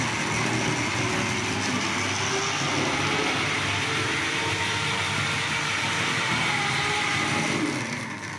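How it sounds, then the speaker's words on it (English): A Tri-ang Hornby model train running around a layout, giving a continuous close whirring rumble of motor and wheels on track that stays steady and fades slightly at the end, with no talk. "the phone does tend to jump for the sound of the train"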